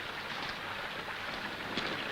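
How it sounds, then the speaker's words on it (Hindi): Heavy rain pours in a 1946 Hindi film soundtrack, a dense, steady hiss of falling water with no pause and no voices through the short stretch. "बारिश को तो देखो, 7 दिन हो गए, एक पल को भी नहीं रुकी।"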